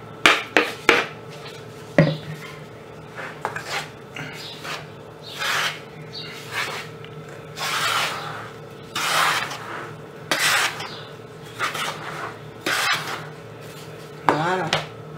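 Ground almonds, sesame and sifted toasted flour for sellou being stirred together in a bowl, with repeated gritty scraping and rubbing strokes and occasional knocks of a utensil at close range, a voice briefly speaking between them.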